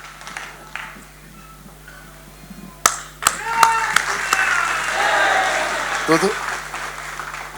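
Audience applause at a Kajri cultural event, a few isolated claps that swell into a sustained round of clapping from a crowd indoors, with a brief spoken word at the start.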